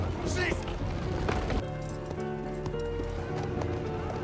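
Horse hooves clip-clopping in a dramatized scene of a young man riding toward a village gate: a quick run of hoof clops up front, then fading under music.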